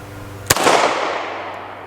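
A single sharp, loud gunshot from a Remington R1 1911 pistol in .45 ACP with a 5-inch barrel, fired outdoors, cracks once and then rolls off in a long, fading echo.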